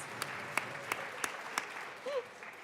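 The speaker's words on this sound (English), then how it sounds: "Yes, round of applause." Light, sparse applause in the Colorado House chamber, a soft bed of distant clapping with a few sharper claps standing out and a brief voice near the end.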